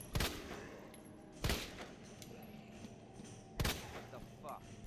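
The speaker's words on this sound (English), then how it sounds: "I still shoot her in the head" Three sharp, loud gunshots crack out, spaced about one to two seconds apart, in a tense Resident Evil 2 remake survival-horror scene with a low ambient hum between shots.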